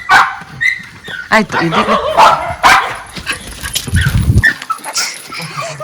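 A household dog barks and whimpers excitedly in short bursts, close by, mixed in with people talking over it.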